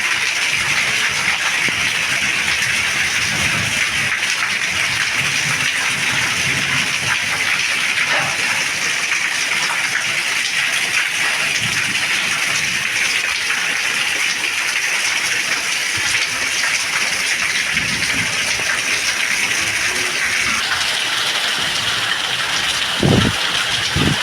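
Heavy rain pours down in a steady, dense hiss that stays loud and unbroken throughout, with a few faint low thumps underneath and no voices.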